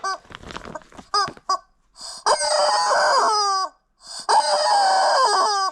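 Squawking toy chickens crow in loud, close bursts, a few short honks first, then two long drawn-out rooster-like cries.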